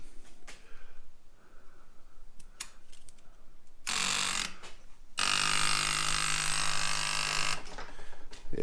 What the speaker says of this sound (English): fuel pump's working